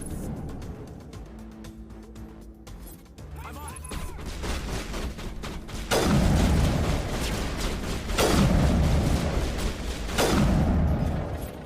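Sniper rifle shots in Mass Effect Legendary, three heavy booming cracks spaced a couple of seconds apart, each loud and close with a rumbling tail over game ambience.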